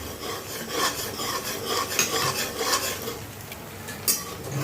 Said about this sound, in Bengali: মিক্সচার দিয়ে সুন্দর করে ওটাকে ফ্রাই করে নিচ্ছি।